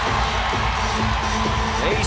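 A sold-out crowd roars at Memorial Coliseum during a Kentucky versus South Carolina women's basketball game, a continuous loud wash of cheering with sneaker squeaks and an announcer talking over it.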